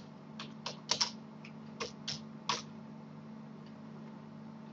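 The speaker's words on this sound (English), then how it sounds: "I should type in a name for the image" Several quiet, irregular keystrokes on a computer keyboard, a short burst of taps while a name is entered, set against a low steady background hum.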